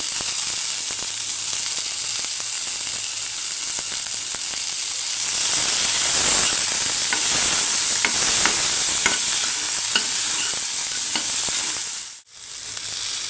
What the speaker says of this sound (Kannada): ಟೊಮ್ಯಾಟೋನ ಸ್ವಲ್ಪ ಫ್ರೈ ಮಾಡ್ಕೊಂಡ ನಂತರ ನಾನು 1 ಈರುಳ್ಳಿನ ಸೇರಿಸ್ಕೊತಾ ಇದ್ದೀನಿ.